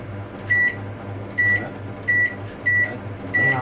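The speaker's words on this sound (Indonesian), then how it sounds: "jadi kita pakai di sini timer sekitar 15 menit" An oven timer beeps five times in an even rhythm, each a short bright electronic tone, close and clear over a low steady hum.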